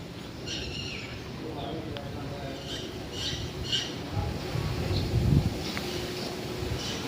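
House sparrows chirp and twitter in short, scattered bursts over wind rumble, with a voice talking faintly underneath.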